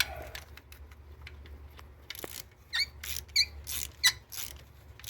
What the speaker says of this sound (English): This one's squeaky.